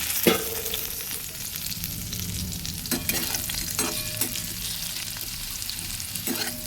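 Potato pieces fry with a steady, close sizzle in a pan for a vegetarian banana-flower curry, broken by several sharp scraping stirs and clatters of the spatula; no one talks.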